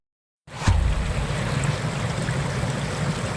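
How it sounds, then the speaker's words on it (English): A small waterfall on Glencryan burn rumbles in a constant, close rush of falling water, starting abruptly and then holding steady without a break. "And there's a mini waterfall"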